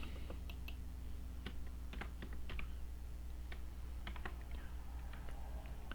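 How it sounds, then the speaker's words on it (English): Steady typing on a computer keyboard while entering PLC programming comments, with irregular bursts of key clicks close up over a constant low hum, no voices. "And then I can type in my third fan."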